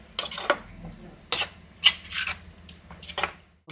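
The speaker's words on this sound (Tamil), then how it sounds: "கிண்டுமா" A utensil scrapes and rubs against a pan of prawns with turmeric in a few separate strokes, close by, with brief pauses between them and no talking.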